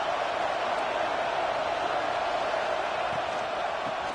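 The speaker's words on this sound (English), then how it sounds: "Man, this crowd really affecting the football game." A home crowd at a Penn State versus USC college football game roars as a steady, loud, washed-out wall of noise that never lets up.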